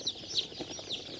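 Tiger hens, a red egg-laying chicken breed, clucking close by in a short series of sharp, high clucks with small gaps between them.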